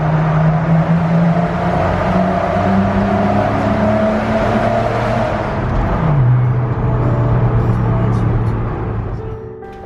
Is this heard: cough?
no